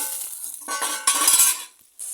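Green chillies dropped into oil with fried onions for a taro flower dish, bursts of bright sizzling that swell and fade in a few waves with light utensil scraping.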